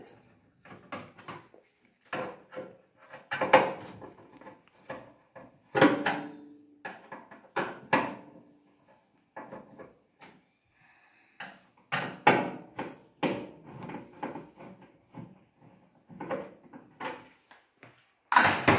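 Screws being removed from the back panel of a microwave oven, heard as a run of sharp clicks, scrapes and knocks of the screwdriver and metal casing at close range, with short pauses between bursts.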